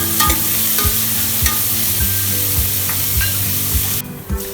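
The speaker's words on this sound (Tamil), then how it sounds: "வெங்காயம் சேர்த்துட்டு ஒரு 2 நிமிஷம் வதங்க விடுங்க." Chopped onions sauté in hot oil with cinnamon, cloves and cardamom for a vegetable kurma, a steady close sizzle broken by regular scraping stirs about every half second, with no talk.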